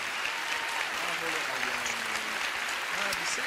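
Audience applause for a Lion King stage troupe on a French TV variety show set, steady dense clapping filling the whole stretch with faint voices mixed in.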